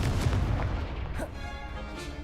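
A fire spell bursts with a deep booming whoosh in a Harry Potter dueling game, a loud roaring blast that swells at the start and fades into a crackling rumble.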